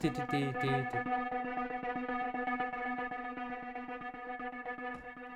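A synthesized tone from external gear is gated by a Roland SP-808ex sampler into a rapid rhythmic pattern of up to 16 on-off steps, pulsing steadily and fairly loud, with no voices.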